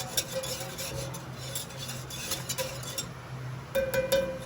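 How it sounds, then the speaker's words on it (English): A whisk beating lime juice into a pomegranate jelly mixture in a pot, with rapid repeated metallic clicks and scrapes in quick bursts, close and clear with no talking. "Get that tablespoon of lime juice in there. Give it a nice little whisk."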